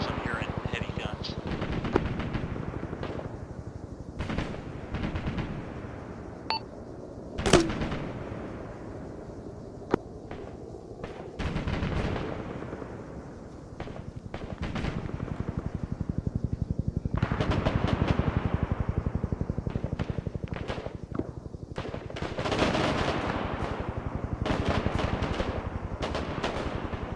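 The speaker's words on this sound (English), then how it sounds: "I'm hearing heavy guns." Heavy gunfire crackles in the Arma 3 video game, with scattered sharp bursts and distant booming volleys of varying loudness over a rumbling background, and voices talk intermittently.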